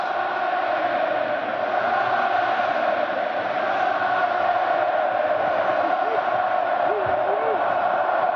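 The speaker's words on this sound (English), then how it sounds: "And here comes the chant." A large stadium crowd at a 1995 AFC Wild Card game, Dolphins at Bills in Buffalo, roars in a sustained, dense wash of chanting voices, steady and loud throughout, with a few raised shouts rising near the end.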